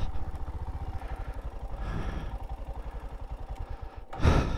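Royal Enfield Himalayan motorcycle descending a rough trail in France in first gear, its single-cylinder engine idling with a steady pulsing thump up close, then a brief louder clatter near the end.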